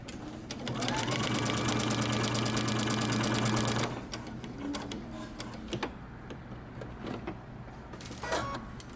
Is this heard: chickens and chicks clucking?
no